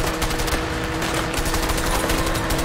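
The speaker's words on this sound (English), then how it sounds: "Keep shooting him." Sustained rapid automatic gunfire from the video game A Way Out rattles on without a break, loud and dense, with no voices over it.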